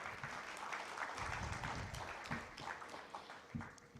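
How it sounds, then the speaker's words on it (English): Sustained applause from a congress audience, a steady wash of many hands clapping for several seconds with no talking. "So give her a round of applause."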